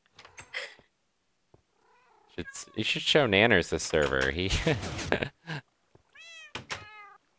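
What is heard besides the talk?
cats meowing in the video game Minecraft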